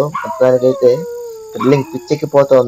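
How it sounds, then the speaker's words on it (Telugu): Dogs howl at night near a solo camp on an island. A drawn-out wavering howl rises between bursts of a man's close, excited talk, which dominates the sound. "ఈ కుక్కలు కూడా సౌండ్ మీద సౌండ్ అరుస్తూనే ఉన్నాయి నైట్ అంతా."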